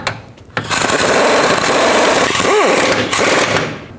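Bolts on a Buick LaCrosse lower control arm being snugged down, a loud, continuous whirring and grinding tool noise running for several seconds after a short quiet start, close by.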